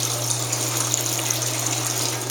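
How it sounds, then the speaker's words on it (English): Water drains steadily out of a wringer washer with a close, continuous gushing flow over a low motor hum. No one speaks. "Hear that water coming out of there?"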